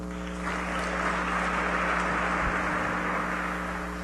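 Audience applause at an inaugural university lecture welcoming a professor, a dense, even wash of clapping lasting a few seconds under a steady electrical hum.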